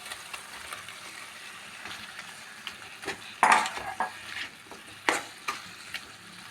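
Boiled chicken, cooked with salt and turmeric, added to a sizzling pan and stirred, with steady frying hiss broken by several louder scrapes and clatters of a utensil against the pan, close and without talk.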